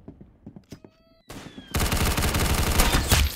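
Gunfire in the Roblox shooter Arsenal. A few light clicks and tones lead into a sudden loud, continuous burst of rapid shots that fills the second half.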